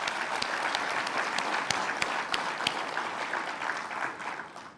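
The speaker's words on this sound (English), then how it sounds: "let us give them a round of applause." Enthusiastic applause from a sizable audience at an awards ceremony, dense and sustained with sharp individual claps standing out, gradually thinning toward the end.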